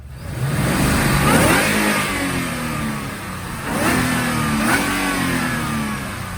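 A supercharged 2011 Ford Mustang GT with a Roush setup revs hard on a dyno, climbing loudly through two long pulls with a brief dip between them, whine rising over the roaring exhaust.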